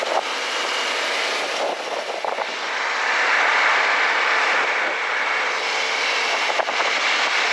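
CF-Moto Ibex 800 motorcycle engine held at full throttle on a ride, a steady loud roar with rushing wind that swells slightly midway and stays constant throughout.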